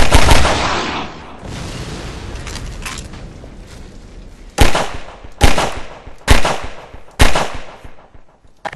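Pistol shots from Half-Life 2: Lost Coast ring out as four sharp, loud cracks spaced roughly a second apart. Each crack trails off into a brief echo, and a burst of heavier gunfire comes first.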